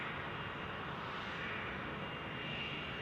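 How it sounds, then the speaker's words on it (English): A Cessna Citation business jet at Zurich Airport makes a faint, distant, steady roar of engine noise, unbroken and even throughout. "We have that looks like a Cessna Citation"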